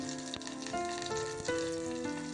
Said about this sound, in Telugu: ఇది కొద్దిగా ఫ్రై అయిన తర్వాత కొత్తిమీర కూడా వేసుకొని ఫ్రై చేసుకోవాలి